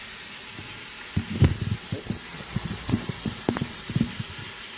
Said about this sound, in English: Okay, so we're gonna let those saute. Probably take a couple minutes on each side.